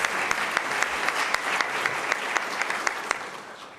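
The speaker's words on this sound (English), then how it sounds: "A round of applause for Deputy Secretary Anthony Miller." Sustained audience applause at a mayors and business leaders breakfast, dense steady clapping with a few sharper claps standing out, moderately loud throughout with no talking.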